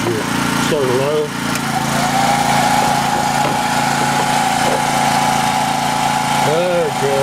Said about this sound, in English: You'll hear the engine change here. Start low.